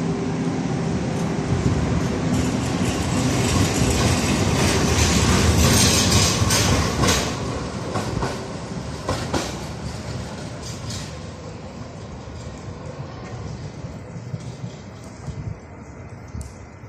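A Siemens U2 light rail tram of the Mendoza Metrotranvía rumbles loudly away from Mendoza station, with metallic wheel screeches and clatter that gradually fade into a quieter hum.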